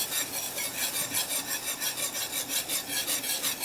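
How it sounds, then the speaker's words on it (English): Liquid is slowly whisked into an oxtail braise gravy in a pan. Rhythmic scraping strokes repeat about three to four times a second, close and steady, with no voices. "And now all you're doing is just slowly whisking that in."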